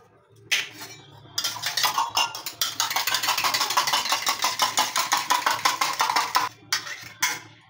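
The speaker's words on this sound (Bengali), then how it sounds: "ডিমটাকে ভালোভাবে ফাটিয়ে নিতে হবে।" A fork rapidly beats eggs in a bowl for an egg roll: a fast, even run of metallic clicks and scrapes, close and loud, with brief pauses at the start and end.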